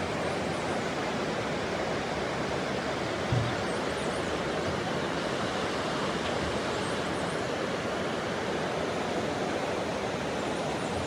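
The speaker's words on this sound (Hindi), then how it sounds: "और ये जो पानी की आवाज़ें आती रहती है ना, बहुत ही मज़ेदार होती है।" Steady, dense rush of flowing mountain water near Manali, a constant broadband roar heard from nearby without pauses or voices.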